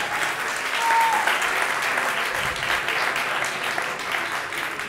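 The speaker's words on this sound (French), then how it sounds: "On applaudit Sheik." Sustained audience applause at a company keynote event, a continuous wash of many hands clapping at moderate level with no break, faint voices blended underneath.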